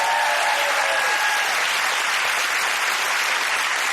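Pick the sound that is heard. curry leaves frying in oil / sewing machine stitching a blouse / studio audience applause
studio audience applause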